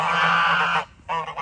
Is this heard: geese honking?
yes